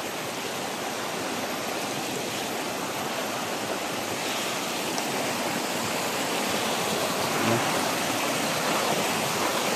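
A creek by a forest bank rushes steadily in a continuous broadband wash, close and constant, with no voices.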